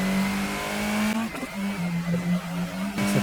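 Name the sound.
race car engine revving, from the video game Gran Turismo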